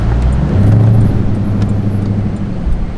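A Cadillac car engine idles steadily up close, heard through a lowered window, a low rumbling hum with a brief rise in pitch partway through, no voices.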